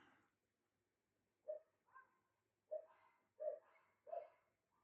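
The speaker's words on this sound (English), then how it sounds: "I know you can hear my dogs." Dogs bark indoors in a house, five short, separate, muffled barks spaced roughly half a second to a second apart, faint and slightly distant against near silence.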